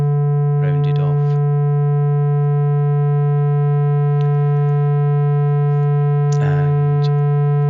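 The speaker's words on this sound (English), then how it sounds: "If I increase the distortion more, it really starts looking like a square wave rounded off." A steady sine tone with a stack of strong harmonics hums continuously, sounding buzzy like a rounded square wave, while a voice talks over it in short bursts.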